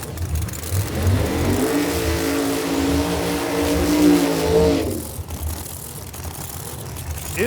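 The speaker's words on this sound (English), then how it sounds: "Here he goes with the burnout." A big blown Camaro drag car with Heartthrob exhausts roars loudly and continuously through a burnout at a drag strip, then the engine note drops away abruptly near the end.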